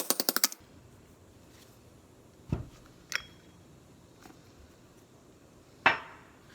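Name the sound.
driving out transmission seal with a socket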